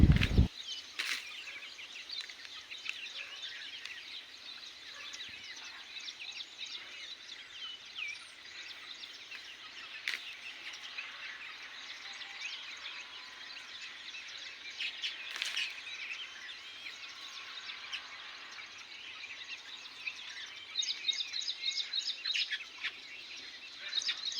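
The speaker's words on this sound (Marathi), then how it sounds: "हे सगळे पक्षी येऊन इकडे दाणे खातात तर त्यांचा आवाज बघा किती आहे" A dense chorus of sparrows chirps continuously, many overlapping tweets at moderate distance, with no talk.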